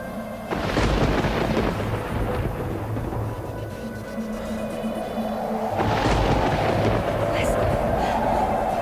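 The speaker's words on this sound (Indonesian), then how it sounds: "Tidak biasanya ada badai sebesar ini." A fierce thunderstorm with deep, rumbling thunder swelling twice amid heavy noise, loud and close.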